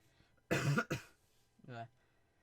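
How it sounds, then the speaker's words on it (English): A gamer coughs twice in quick succession close to the microphone, then gives a shorter voiced cough or throat clearing after a pause. "Sorry about the coughing"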